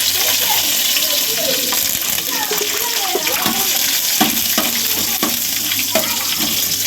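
Cashews fry in hot ghee for a dish, giving a loud, dense sizzle with scraping stir strokes throughout. A running-water-like hiss fills the background, and a voice may be faintly present.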